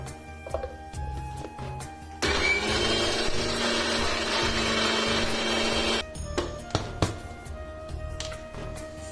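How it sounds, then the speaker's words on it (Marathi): A mixer grinder roars loudly for about four seconds grinding poppy seeds, with quieter kitchen clatter before and after the burst. "थोडं हे खसखशी वाटून घ्यायचंय"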